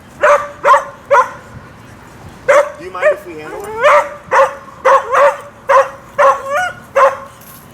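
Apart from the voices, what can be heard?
reactive collie barking and whimpering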